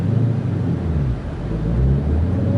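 A 2020 Dodge Challenger Hellcat with a manual gearbox pulls hard under acceleration, giving a steady, dense, deep engine rumble heard from inside the car with no talking.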